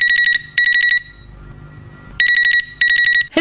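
A telephone rings in two bursts of rapid electronic trills, with a quiet pause between them, loud and close with no talking.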